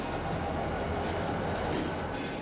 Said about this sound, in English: Well, we have two trains on the move here.